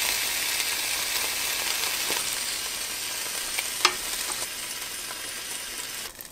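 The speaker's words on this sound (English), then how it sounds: "I'll cook them for a few more minutes on the other side." Lamb chops grilling on a Ninja Foodi Grill, a steady bright sizzle and hiss throughout, with a single sharp pop midway and a brief clatter near the end.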